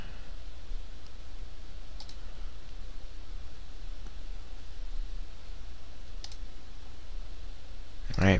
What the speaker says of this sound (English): I just click through all this stuff